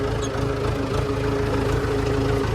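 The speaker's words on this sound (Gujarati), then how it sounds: "આ છે આપણું ટ્રેક્ટર" A farm tractor's engine idling at close range after field ploughing, a steady low throbbing rumble with an even pulsing beat, continuous and fairly loud throughout.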